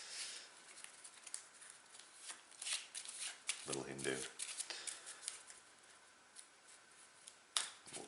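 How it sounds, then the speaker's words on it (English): A deck of game cards riffle shuffled on a tabletop makes a quick burst of fluttering card patter, followed by several softer taps and shuffles while a voice speaks briefly. "Pseudo quasi riffle shuffle here."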